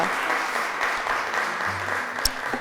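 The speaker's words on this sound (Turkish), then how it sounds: "Alkışlıyoruz arkadaşlarımızı." A steady wash of TV quiz show studio audience clapping fills the whole stretch, dense and even, with one sharp louder clap near the end.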